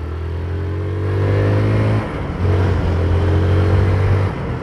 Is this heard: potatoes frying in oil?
no